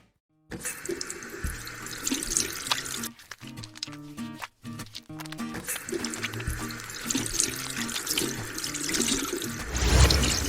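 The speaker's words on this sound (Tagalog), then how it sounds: "Maghugas ng kamay." Tap water runs steadily into a sink as hands are washed beneath it, a continuous close splashing that swells louder near the end and never stops, with no voices over it.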